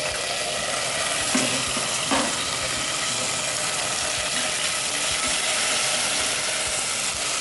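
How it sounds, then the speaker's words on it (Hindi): Chopped onions fry and sizzle in ghee for a vegetable pulao, a steady dense hiss that carries on throughout. A couple of faint clicks from stirring come through, and no one speaks. "प्याज डाला आपने, प्याज भून चुका है, ब्राउन हो चुका है प्याज."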